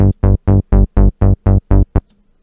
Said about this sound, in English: Here's a bass line.